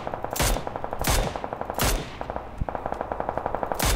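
Gunfire from the video game PUBG: loud bursts of rapid automatic fire with single heavy shots cutting in between, a fast mechanical rhythm close up with no pauses, and no voices.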